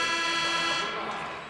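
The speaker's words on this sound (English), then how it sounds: "There's the buzzer bringing the second period to an end" End-of-period buzzer from the NHL 26 hockey video game, a loud sustained tonal blast holding steady for over a second before starting to fade.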